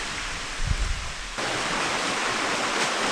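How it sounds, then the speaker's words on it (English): A creek flows inside an underground mine, a steady broadband rush that starts abruptly after a brief low rumble and continues evenly to the end. "Well, there's the creek."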